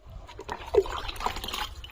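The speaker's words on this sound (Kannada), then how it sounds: "ಗಿಡಗಳಿಗೆ ನೀರು ಹಾಕ್ತಾ ಇದ್ದೀನಿ ನೋಡಿ." Water poured over garden plants trickles and splashes unevenly in short bursts, close by and fairly quiet.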